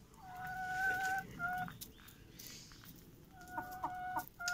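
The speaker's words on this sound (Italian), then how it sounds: "ci troviamo nel recinto grande delle galline" Hens in a large outdoor chicken enclosure cluck and cackle in several bursts, near and moderately loud over a steady rustling background.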